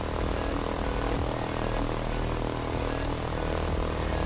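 Simulated SimWorks RV-14 propeller engine running steadily after startup, throttle near 1200 RPM, in Microsoft Flight Simulator; a continuous loud propeller drone with broadband airscrew noise, no talk.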